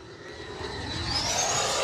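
An FMS F-86 Sabre 80mm EDF radio-controlled jet flies in windy conditions, its steady ducted-fan whine rising in pitch and loudness as it passes, with no talk.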